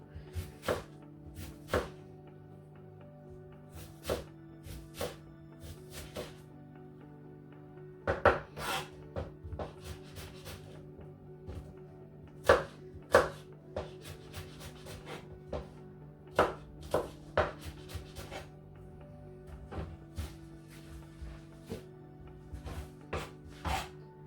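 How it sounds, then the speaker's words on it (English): A knife chops an onion with crisp, irregular taps spread across the clip over a steady background hum. No one speaks. "I ran the knife along the centre of the onion"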